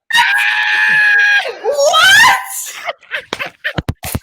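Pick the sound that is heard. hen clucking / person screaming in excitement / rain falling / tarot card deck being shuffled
person screaming in excitement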